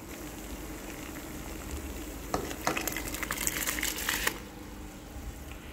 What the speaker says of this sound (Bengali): এবার আমি উপর থেকে রাইসটা ঢেলে নেব।